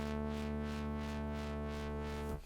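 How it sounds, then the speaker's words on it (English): Dirty saw-wave lead from Bitwig Studio's stock Polysynth, made for electronic music: a buzzing, harmonically rich held tone with a rhythmic pulsing filter sweep, played loud and alone before cutting off near the end. "I'm starting with this sound that I've made in a stock synth called Polysynth in Bitwig Studio"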